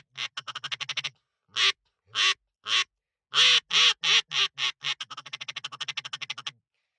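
Buck Gardner Mallard Magic duck call blown to imitate a drake mallard: a fast run of short quacks, then several long loud drawn-out quacks, ending in a rapid descending chatter of short notes, close and alone.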